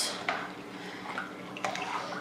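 A spoon stirs chocolate chips in a ceramic crock pot, making a few faint, quiet clinks and scrapes spaced across a soft background hiss.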